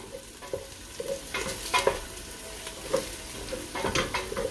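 Onion and garlic fry in a pan for a hot pepper sauce, a soft steady sizzle broken by scattered clicks and scrapes of stirring.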